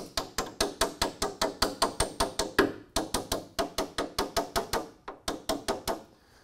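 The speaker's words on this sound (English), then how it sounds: "use a hammer, a tapping hammer, to tap this into place." A tapping hammer lightly taps a part into place on a Mustang ram air setup, a fast, even run of about thirty crisp close knocks with brief pauses, ending with a few slower hits.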